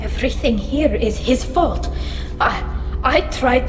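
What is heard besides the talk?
None of the usual background noises is heard.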